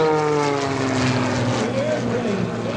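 A loud, close propeller aerobatic airplane engine droning steadily at an airshow, its pitch sliding gradually as the plane rolls and flies inverted, with a voice faintly underneath.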